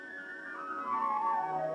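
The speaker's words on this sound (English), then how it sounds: "then that whistle told us that we were crossing the Arctic Circle." A train whistle sounds in a single sustained tonal blast with a slightly falling pitch, moderately loud and alone, as the train crosses the Arctic Circle in Norway.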